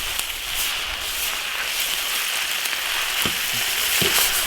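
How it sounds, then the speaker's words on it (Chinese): Loaches stir-fry in a hot wok with seasonings, giving a steady close hissing sizzle with soft scraping stirs and a few sharp ticks, and no talk over it. "加泥鳅， 泥鳅稍微煸炒一下，"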